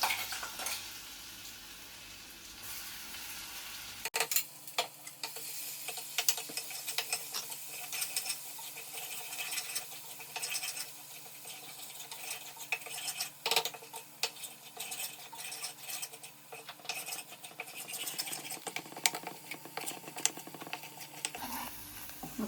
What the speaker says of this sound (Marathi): बटर असं जरा वितळलं ना की त्यामध्ये आपण थोडं जिरं टाकून घेऊ मध्ये आता अद्रक लसणची पेस्ट टाकून घेऊ